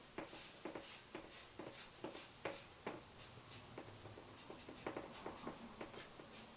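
A pen drawing a small figure on paper, heard as a rapid, irregular series of close, scratchy strokes and taps. The sound continues throughout at a moderate level with no talking.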